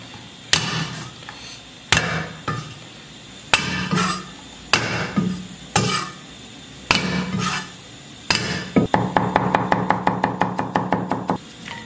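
A cleaver whacks ingredients against a wooden cutting board in a kitchen: a series of loud, close, separated thuds every second or so, ending in a fast run of rapid chopping strikes, with no talking.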